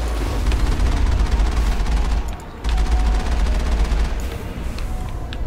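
Rapid, dense video game gunfire from Mass Effect rattles continuously in bursts, loud and close, with a brief drop in intensity midway before the barrage resumes.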